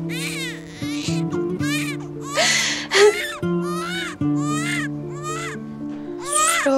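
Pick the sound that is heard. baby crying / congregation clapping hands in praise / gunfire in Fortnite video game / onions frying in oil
baby crying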